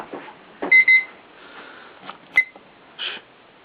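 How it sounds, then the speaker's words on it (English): A few short, high electronic beeps sound in quick succession, then one more, against a quiet room with faint clatter during a home beer brew day. "Oh, it's beeping."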